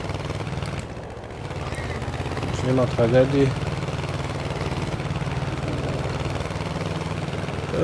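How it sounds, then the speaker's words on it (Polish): A tractor engine idles steadily after starting on a cold winter day, a low continuous rumble with someone speaking briefly over it. "No, traktor dosyć ładnie zapalił"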